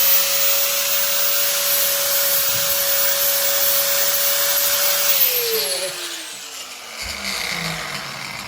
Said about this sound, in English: I tend to use an orbital sander, so we'll just give this a quick sanding.